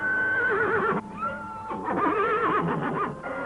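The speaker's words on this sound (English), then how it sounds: "Oh, horses up ahead, huh?" A horse whinnies loudly and close by in an old Western film, its wavering neighing calls rising and falling across the clip with brief gaps, no talking over it.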